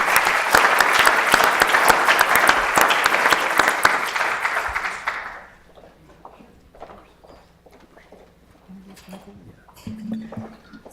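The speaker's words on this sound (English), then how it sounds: "Just a huge round of applause" Conference audience gives Professor Carol Peden a loud, dense round of applause that fades out after about five seconds, followed by a quiet room with scattered rustles and faint talk.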